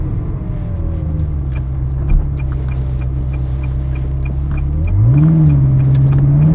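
A 2004 Ferrari 360 Spider engine drones steadily at speed, then revs up sharply near the end, loud and close with no talking.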